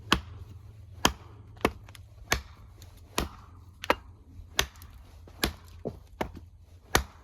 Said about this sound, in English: gonna do just a little bit more chopping here with the Woox Terra Axe